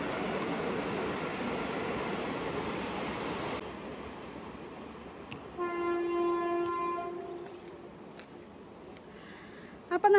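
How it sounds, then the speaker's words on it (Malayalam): A passing train rumbles steadily for several seconds, then fades. A long, clear, two-toned horn blast sounds at moderate distance before a few faint clanks. "ട്രെയിൻ പോകും."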